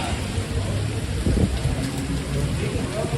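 Rain falls steadily on a Manhattan street near Madison Square Garden during a Saturday storm, a continuous broadband hiss with low traffic rumble underneath and no clear speech.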